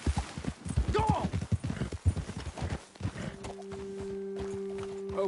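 Horse hooves clip-clopping in the video game Red Dead Redemption 2, a steady walking rhythm under a voice, then continuing alone with a low droning game tone behind.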